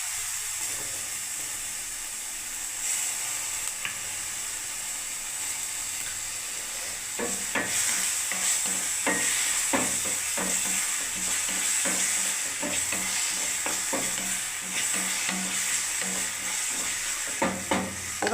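Garlic and tomato paste sizzling in a hot pan, a steady loud hiss throughout with a spoon stirring and scraping more busily in the second half, close and with no talking.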